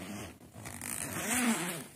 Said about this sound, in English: then there's a zipper over here